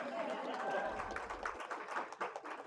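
Audience at a mayoral announcement of key appointments applauding an appointee, scattered claps building under murmuring voices and some chatter, moderately distant.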